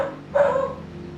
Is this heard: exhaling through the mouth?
no